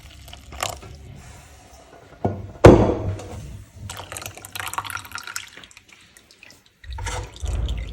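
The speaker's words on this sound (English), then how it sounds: "We'll go ahead and strain the juice from the pineapple peel." Juice drains through a strainer from pineapple peel into a container, with trickling and dripping liquid, a sharp thunk partway through, and low, uneven splashing that carries on to the end.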